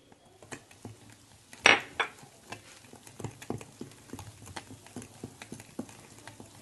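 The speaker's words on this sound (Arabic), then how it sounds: "نخلط حتى نكمل الدقيق ديالي ونرجع لكم" A spoon or utensil clinks and scrapes against a bowl while flour and yeast are mixed, giving irregular tapping knocks with one sharper clatter, close and fairly quiet.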